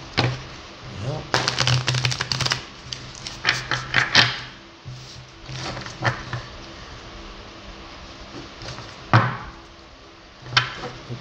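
Tarot cards are shuffled by hand in quick bursts of riffling and slapping clicks, separated by pauses, with a person talking in between.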